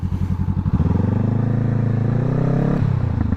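A Honda CBR500R motorcycle engine runs close and loud while riding, starting with a pulsing low rumble that smooths into a steady, rising drone, then eases slightly near the end; no voices.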